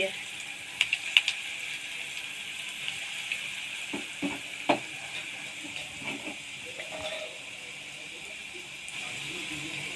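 Lentil pakoras (bora) deep-fry in hot oil on a low gas flame, giving a steady hiss with occasional sharp crackles and soft clatters from stirring.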